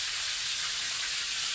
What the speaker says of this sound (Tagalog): Pinipirito.